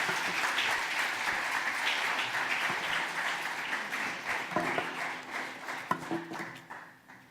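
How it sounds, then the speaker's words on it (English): Audience at a capital markets leaders forum gala applauding the speakers, a sustained burst of clapping from a full room that thins out and fades toward the end. "Please give one more round of applause to all the speakers."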